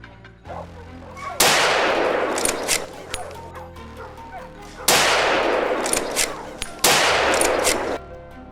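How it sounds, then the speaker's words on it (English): Farmers shooting at a herd of invasive wild boars in a field, three loud close gunshots each with a long ringing echo tail, spaced a couple of seconds apart over a low steady background. "We kept shooting and shot down quite a few wild boars."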